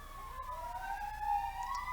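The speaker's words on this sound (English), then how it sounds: "let these ambulances get past" Ambulance sirens wail at a distance, steady rising and falling tones passing by outdoors with no talking, moderately faint.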